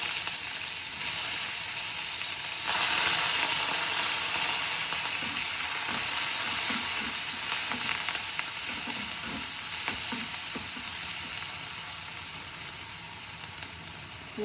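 Garlic, onion and curry leaves frying in hot oil with popped mustard seeds for an oily brinjal dish, a bright steady sizzle up close, with soft stirring taps in the middle.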